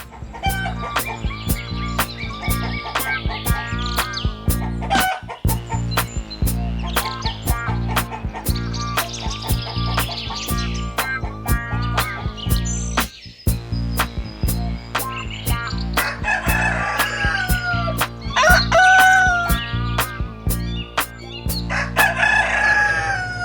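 Roosters crow and chickens cluck over steady music, with a loud rhythmic beat running throughout.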